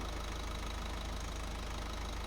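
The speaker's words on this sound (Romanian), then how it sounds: "dacă pornim motorul" A car engine runs steadily at idle just after the starter motor has cranked it, with a continuous broadband hum and a faint knocking texture, close and alone with no talk.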